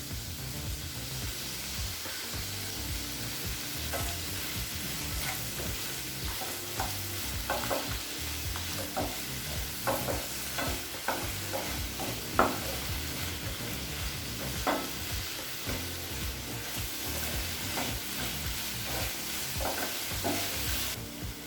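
Tomatoes and fresh mint sauté in a pan for chutney, sizzling steadily while a utensil stirs and scrapes in repeated soft clicks throughout, close and continuous with no talking.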